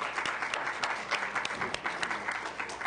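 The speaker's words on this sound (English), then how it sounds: "Give her a round of applause." An audience at a Senate Health Committee hearing applauds steadily, a dense patter of many clapping hands filling the room without pause.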